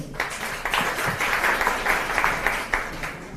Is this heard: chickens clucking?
no